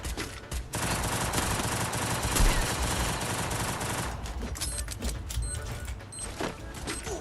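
Dense bursts of automatic gunfire from the battle royale video game Free Fire, rapid and loud, rattle continuously for about four seconds, then give way to scattered shots and game effects.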